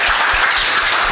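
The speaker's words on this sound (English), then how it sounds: "with a round of applause." Loud, dense audience applause welcoming a speaker at a talk event, a brief continuous burst of many hands clapping with no voices over it.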